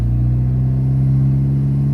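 A car engine with a faulty MAF sensor hums at steady low revs, a loud, constant close-up drone with a strong low tone and no change in pitch.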